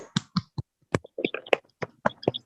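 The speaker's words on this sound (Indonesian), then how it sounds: "Berikan tepuk tangan semuanya" Scattered, uneven hand claps from a classroom of students, a dozen or so sharp separate slaps spread over a couple of seconds, fairly close and not very loud, with no steady roar of a full crowd.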